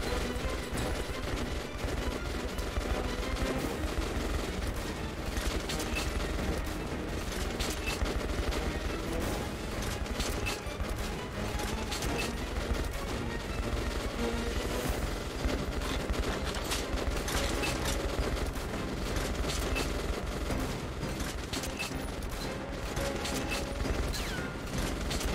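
Gunshots in the video game Metro Last Light: a long, steady barrage of rapid shots with mechanical clatter throughout, loud and unbroken, no talk.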